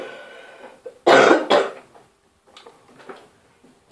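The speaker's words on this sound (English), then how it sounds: "it's just a little cough" A couple of sharp, loud coughs burst out close by, followed by quieter throaty sounds and brief rustling.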